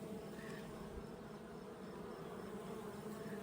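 A colony of honey bees drones around an open beehive, the buzzing thick, near and unbroken throughout, no talking.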